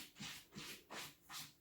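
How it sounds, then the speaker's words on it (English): A cat scratches litter inside a litter box in a quiet room: four soft, rhythmic scraping strokes, faint and close, with no other sound. "If you hear weird scratching, that's my cat in her litter box."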